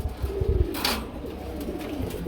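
Pigeons at a Bangladeshi pigeon sale coo repeatedly, breeding pairs calling close by in low rounded throaty phrases over a steady background hum, with no one talking.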